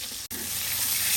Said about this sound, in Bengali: মাছগুলো ভাজি করে গেলাম কারণ ভিতরে মশলা ঢুকে ভালো করে